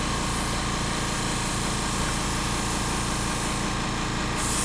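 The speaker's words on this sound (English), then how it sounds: "That's my compressor going off." An airbrush compressor runs steadily throughout, a loud, continuous mechanical hum with a rapid pulsing rhythm and a hissy upper layer, with no voices.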